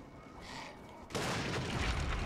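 In the video game The Lord of the Rings: War in the North, a sudden loud blast erupts from quiet game ambience, followed by sustained roaring, crackling debris noise.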